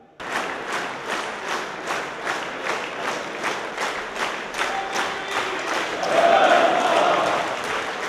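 Applause at the signing of the Ukraine-EU association agreement rolls on in rhythmic, nearly synchronized waves of clapping, swelling louder toward the end with some crowd noise underneath.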